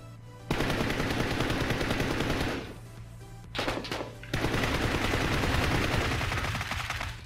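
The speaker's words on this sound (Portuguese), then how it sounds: "Eles vão atirar nas minhas costas agora, hein?" Rapid automatic gunfire in PUBG on Xbox One rattles loud and near in long sustained bursts, breaking off briefly around the middle before resuming.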